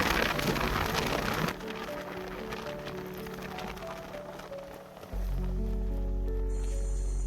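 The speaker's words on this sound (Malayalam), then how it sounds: "ഇവിടുന്ന് റൈഡ് സ്റ്റാർട്ട് ചെയ്തപ്പോഴത്തേക്കും അത്യാവശ്യം നല്ലൊരു മഴ അങ്ങോട്ട് പെയ്തു." Heavy monsoon rain pours during a ride on the Kalala Plantation route toward Athirapilly, a dense, steady hiss that is loudest at first and then continues under a low vehicle hum.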